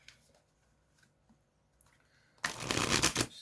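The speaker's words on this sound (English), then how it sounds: "give it one shuffle quick" Tarot cards of the Psychic Tarot deck being shuffled: a loud, dense burst of riffling and slapping paper that starts abruptly after near silence and runs for about a second, close to the mic with no talk.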